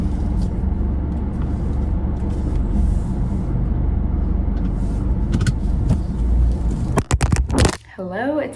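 A car driving home on a warm day in south Florida, its steady engine and road rumble close and continuous from the cabin, with a few sharp clicks near the end.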